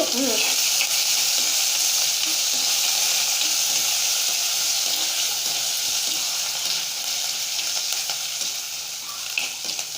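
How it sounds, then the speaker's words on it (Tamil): Onion, garlic and curry leaves fry in hot oil while being stirred, a loud, steady sizzle that runs throughout with faint scraping of the spoon in the pan. "ஃபஸ்ட்டு வெங்காயம் வெள்ளைப்பூடு அப்புறம் கருவேப்பிலை போட்டு நல்லா கிண்டிட்டு"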